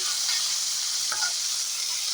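Okra sizzles steadily in a hot pan, a loud continuous frying hiss with a brief stirring scrape midway.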